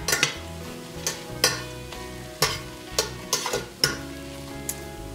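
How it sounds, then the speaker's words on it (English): A spoon stirs turkey sausage seasoned with oregano in a pan, sizzling steadily underneath while a series of sharp scraping knocks lands irregularly, loud and close, with no talking. "Just gonna stir that up."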